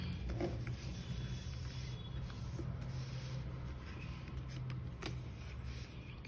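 A deck of tarot cards being shuffled, soft papery rubbing and riffling heard close but quietly in a calm room, with no talking.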